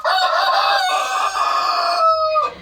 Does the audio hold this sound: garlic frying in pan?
no